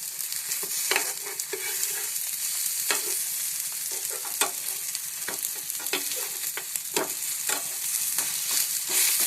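Potato tikkis shallow fry in a pan with a bright, continuous sizzle, punctuated by frequent close scrapes and taps of a spatula as they are turned and moved.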